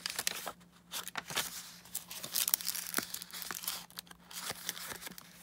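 Coffee-dyed lace paper crinkles softly in a handmade journal, with quiet, intermittent rustles and crackles from close handling.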